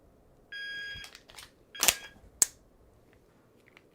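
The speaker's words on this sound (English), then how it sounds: "At the buzzer, drop the empty mag, load a full mag in, and dry fire at the center of the target." A shot timer gives a short electronic beep, followed by a few sharp mechanical clacks and snaps as a pistol magazine is swapped and the trigger is dry fired. The clacks are close and isolated.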